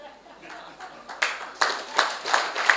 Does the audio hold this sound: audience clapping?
yes